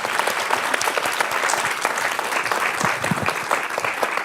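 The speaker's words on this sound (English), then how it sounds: "A round of applause." Audience applause at a live panel event on women's leadership in transboundary water cooperation, a steady, dense clapping that holds at even loudness throughout, with no speech over it.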